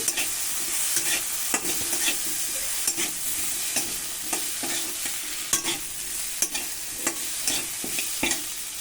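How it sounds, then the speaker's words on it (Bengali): Thick chilli paste sizzles in a pan with fried potato and onion while a spoon scrapes and stirs it in repeated sharp strokes, close up and steady. "লঙ্কাটা আমি ভালো করে কষিয়ে নেব"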